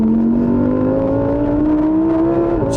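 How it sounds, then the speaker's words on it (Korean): A Lamborghini Huracán Evo engine holds a loud, steady rev with a rising drone on a race track, running continuously with no talk. "이 아름답고 과격한 이 엔진 사운드가"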